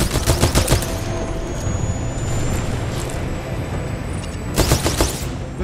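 Rapid automatic gunfire from a gun in the video game Titanfall 2 crackles in loud bursts at the start and near the end, with a steady rumbling battle drone and a faint high whine filling the gap between them.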